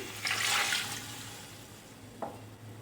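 A short burst of water, about one cup, pouring into a pot for about a second, then a brief soft clunk; quiet background hum throughout.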